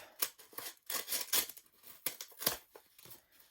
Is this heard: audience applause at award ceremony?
no